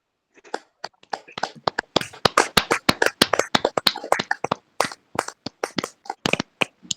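Loud, rhythmic group clapping at a women's fellowship prayer meeting, a dense run of sharp hand claps that builds and holds steady, close and bright.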